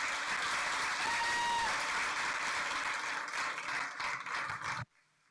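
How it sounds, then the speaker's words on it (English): Audience applause for a presenter at a veterinary research day, a sustained, even wash of clapping that carries on for several seconds before cutting off abruptly into near silence. "Let's have one more round of applause for Carla."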